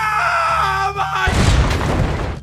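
A stone hurled by a giant wooden siege engine slams into a city in 1291, a deep booming crash with a burst of rumbling debris. Screaming voices carry through the loud impact and continue beneath it.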